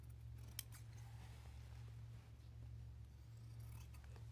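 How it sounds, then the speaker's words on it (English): Scissors cutting a leaf shape out of felt, quiet close snips and a soft blade slide over a low steady hum, no talking. "I would take and cut the leaf shape out of the felt"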